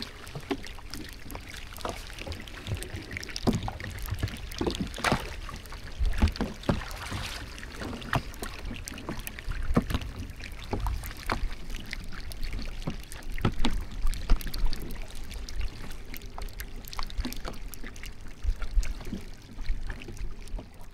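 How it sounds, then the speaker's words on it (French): Faint crackling and fizzing pops scatter continuously over a soft watery background as tiny bubbles burst from small pieces of melting Antarctic sea ice, with occasional gentle kayak splashes. "le bruit des bulles qui éclatent de tous ces petits morceaux de glace"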